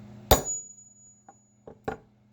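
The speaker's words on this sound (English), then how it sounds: "Come in with my hammer. You don't have to hit pewter pendants very hard at all." Hammer tapping a metal letter stamp into a pewter pendant: one sharp, fairly loud metallic strike with a brief ringing tone, then a few lighter, quieter taps, over a steady low hum.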